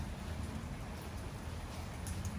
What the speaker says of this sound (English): It was raining super hard.